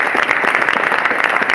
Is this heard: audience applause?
yes